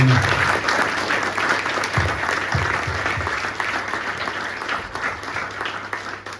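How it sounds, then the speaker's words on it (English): An audience claps continuously in a sustained round of applause that slowly fades, with no talking. "massive round of applause for a great talk"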